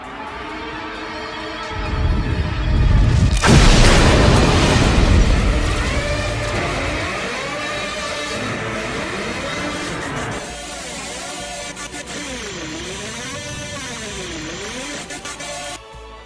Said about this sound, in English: So I've added a heat ray charge sound effect, and much more sound effects to it